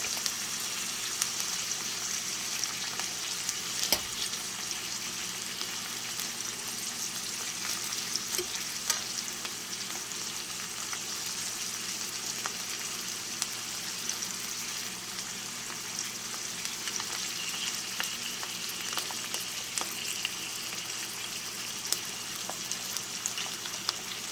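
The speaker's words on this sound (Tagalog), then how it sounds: "tayo nagpiprito ng beef steak." Beef steak fries in a pan with a constant, crackling sizzle, steady and close, with scattered sharper pops throughout and no talking.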